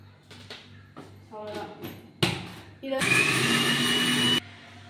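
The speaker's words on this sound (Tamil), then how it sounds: "முட்டை மட்டும் அரைச்சிட்டேன்." An electric mixer grinder blends eggs with salt and sugar, a loud steady whir running for about a second and a half after a short burst, with kitchen clatter and brief talk before it.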